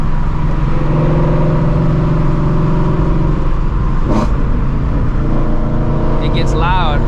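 A supercharged New Edge Mustang GT in fun mode rumbles loud and close, with the engine note shifting as it revs, while a person talks over it and a brief high squeal cuts through near the end.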